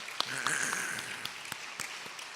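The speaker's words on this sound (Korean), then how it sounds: "박수 한번 보내겠어요" Congregation applauding in a church service, a steady broadband clapping wash filling the clip with a few sharper claps standing out, while a voice speaks briefly over it near the start.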